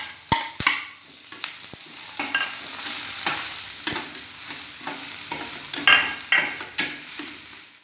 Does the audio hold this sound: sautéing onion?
yes